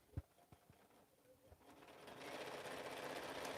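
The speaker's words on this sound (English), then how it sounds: "So I'm just stitching a 1/4 inch seam." A sewing machine stitching a quarter-inch seam, starting with a few faint clicks and then building into a steady, soft mechanical whir.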